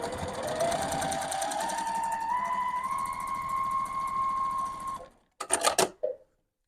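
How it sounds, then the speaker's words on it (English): A sewing machine stitching a half-square-triangle quilt seam: a steady, rapid, close mechanical whir with a rising hum for about five seconds, then stopping, followed by a few short clattering bursts. "I'm going to sew over here on the second line for our second seam."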